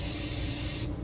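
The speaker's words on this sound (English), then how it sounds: "I'm gonna take my no stick butter flavored cooking spray and I'm gonna spray it." Butter-flavored non-stick cooking spray hisses steadily onto a pan in one long, loud, close burst that stops just before the end.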